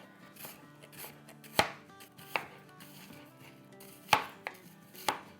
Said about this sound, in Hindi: अब हम झटपट अनियन काट लेंगे।